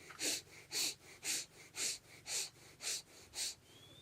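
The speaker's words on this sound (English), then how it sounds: "this short, shallow, strong breathing technique." Short, shallow, forceful breaths from a Buddhist monk breathing exercise: seven sharp, evenly spaced puffs in a steady rhythm, close and fairly loud, with no talking.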